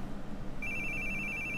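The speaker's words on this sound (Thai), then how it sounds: "I hate the sounds of phones." A telephone rings in the horror video game The Boogie Man, a steady electronic trill that starts abruptly and continues over a low ambient hum.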